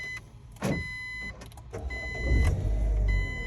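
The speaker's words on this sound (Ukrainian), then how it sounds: "Зараз заведемо автомобіль." A 2008 Chery Jaggi with a 1.3 litre naturally aspirated engine, heard up close as a few short mechanical whirs and clicks give way to a rising low rumble as the engine catches and settles into a steady idle.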